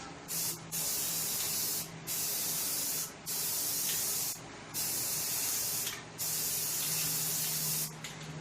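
Aerosol spray paint going onto the wheels of a 1959 Riverside scooter in close, hissing bursts of roughly a second or more, separated by brief pauses.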